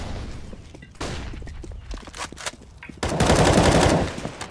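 Rapid gunfire in a multiplayer shooter video game: scattered single shots and thuds early, then a loud sustained burst of fast automatic fire in the last seconds, heard without talk.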